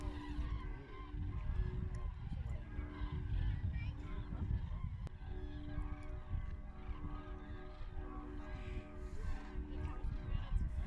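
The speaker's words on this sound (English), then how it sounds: "church bells began to ring in a nearby village, mingling with the cries of the birds" A flock of migrating cranes calls at sunset in early autumn, with many honking cries overlapping continuously at a moderate distance, and church bells ringing faintly from a nearby village.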